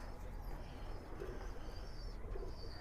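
Pigeon cooing, a male bird from a pall line collection held in hand, continuous low murmuring coos under a steady background hum, close by, with faint room noise.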